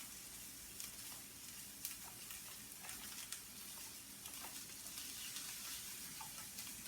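Onions sizzle steadily in a pan on the stove, a faint, continuous hiss of frying with occasional soft stirring clicks and scrapes, no talking over it.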